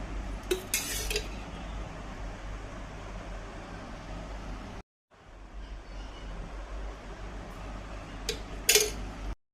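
Food is worked together in a dish with mustard oil, making steady scraping and clinking against the dish under a constant background hiss, with sharper metallic clatters near the start and end and a short gap midway.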